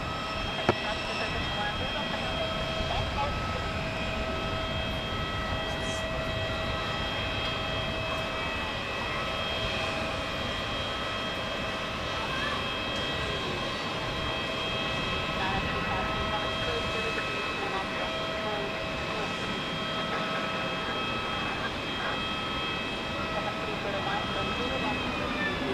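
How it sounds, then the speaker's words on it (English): A Vueling Airbus A321 pushing back at Zurich Airport, its engines and ground equipment making a steady, loud droning hum with constant tones that runs the whole time, while people talk nearby. "We have a Vueling A321 pushing back, making a lot of noise"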